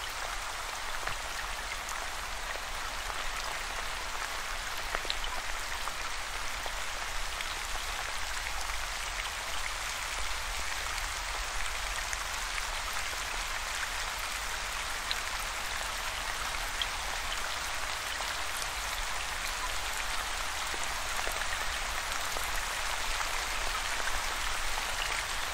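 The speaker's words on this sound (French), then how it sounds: "Tentez du mieux possible d'imaginer l'odeur de cette pluie qui tombe." Steady rain falls continuously, a dense even hiss of drops on surfaces with no speech, close and uniform throughout.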